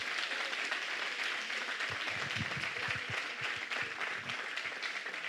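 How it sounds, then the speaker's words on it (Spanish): Members of a church congregation applaud together during a sermon, a full, continuous burst of many hands clapping that stays dense from start to finish, with a few louder individual claps near the front. "¿Alguien le da un aplauso a Jesús?"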